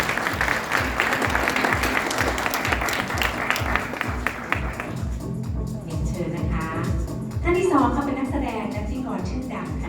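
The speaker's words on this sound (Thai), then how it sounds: "ขอเสียงปรบมือดังต้อนรับ" An audience at an international school press conference in Thailand claps steadily to welcome a guest, with a dense, sustained patter that continues under a presenter speaking over a microphone.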